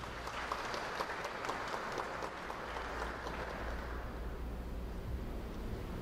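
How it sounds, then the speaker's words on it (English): An audience applauds steadily for several seconds at a school prize day, a dense wash of clapping that softens slightly toward the end. "Let's give her another round of applause."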